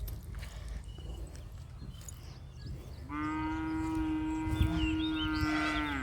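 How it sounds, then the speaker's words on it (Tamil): A cow moos once in a long, sustained low call that starts partway through, heard fairly close over a background of outdoor rumble and rustling. "மாடு"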